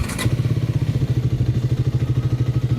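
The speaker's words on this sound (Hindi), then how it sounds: "मुझे इसका एग्जॉस्ट साउंड काफ़ी पसंद" A Triumph Speed 400 motorcycle engine thumps at idle with a close, loud, steady, pulsing single-cylinder beat through its exhaust, with no voices.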